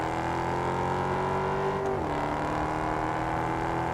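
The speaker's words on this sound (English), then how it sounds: "Mustang sounds very nice." Ford Mustang engine in the racing game Test Drive Unlimited Solar Crown, a steady close droning hum that drops in pitch partway through, like a gear change, then carries on evenly with no talk.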